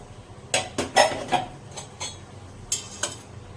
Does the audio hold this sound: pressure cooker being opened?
yes